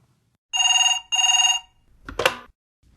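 A telephone rings twice in a clear double burst, each ring a bright electronic trill lasting about half a second, followed by a brief rustle like a receiver being picked up, in a quiet recorded English-lesson setting.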